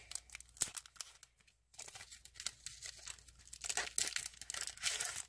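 A foil art sample package crinkles and tears close by in quick, uneven bursts of crackling, with a short pause near the start, quiet and with no talking.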